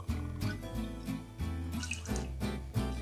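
London Dry gin poured into a mixing glass for a martini, a steady liquid trickle over a continuous bed of background music.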